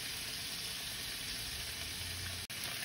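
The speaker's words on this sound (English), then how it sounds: "You don't want to cover them at this point. You just want to get that sear happening." Moose steaks coated in mustard and maple syrup searing uncovered in a hot pan, a steady, dense sizzle running unbroken throughout with a brief dropout near the end.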